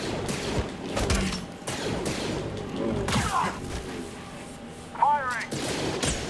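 Blaster fire in the Star Wars: Ashes of the Jedi Order game, a flurry of sharp shots and thuds with zinging laser tones, mixed with voices talking throughout.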